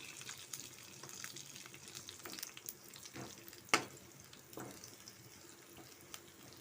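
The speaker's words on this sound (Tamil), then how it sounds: "இங்கே பாருங்கள், மீன் குழம்பு நல்லா கொதிக்குது." A pot of kavalai fish curry boils with a soft, steady bubbling and gurgling, quiet overall, broken by an occasional louder pop.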